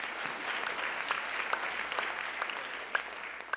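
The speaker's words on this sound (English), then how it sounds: "Give him a round of applause." A large audience at the White House Correspondents' Dinner applauds, a continuous, fairly dense patter of many hands with a few sharper individual claps standing out.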